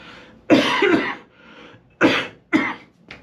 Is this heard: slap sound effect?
no